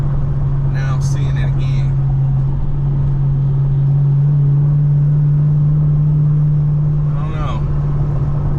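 A car at a Southern Orange County cars and coffee meet gives a steady, loud engine drone that holds evenly throughout, with brief talk near the start and again near the end.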